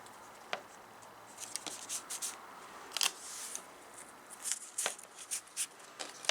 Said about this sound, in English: I'll go ahead and just tape the edges and show you how I do that.